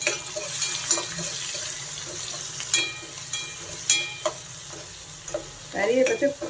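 Onions frying in a pan for an Andhra-style fenugreek and gram flour curry, a steady close sizzle broken by scraping stirs and clinks of a spatula, louder bubbling near the end.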